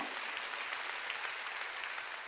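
A church congregation at a Sunday worship service claps together, a steady, even wash of applause that fills the room without pause, with little talk.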